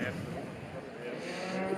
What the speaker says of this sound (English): There's the lighthouse cow back into shot.